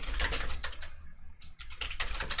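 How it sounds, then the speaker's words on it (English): A loud computer keyboard clatters with rapid bursts of close keystrokes, a short pause in the middle, then more fast typing, with no voices. "This is a pretty loud keyboard."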